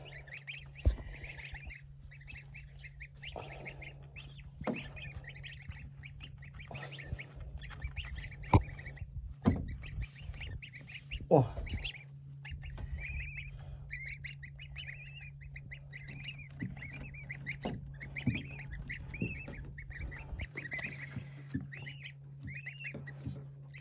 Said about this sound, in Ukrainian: такі у нас сьогодні гусенятка.